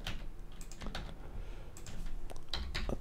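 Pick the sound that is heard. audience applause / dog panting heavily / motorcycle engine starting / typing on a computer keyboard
typing on a computer keyboard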